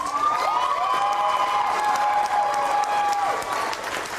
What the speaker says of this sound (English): Everyone, a round of applause for Rebecca, please.